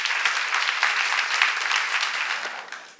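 A church congregation breaks into applause during a seminar, a continuous, fairly close clatter of many hands holding steady for a few seconds and fading slightly toward the end.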